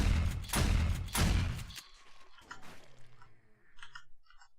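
Turret gunfire at zombies in 7 Days to Die, auto turret and shotgun turret: two heavy bursts of shots in the first two seconds, followed by quieter scattered impacts and faint game noises that fade out.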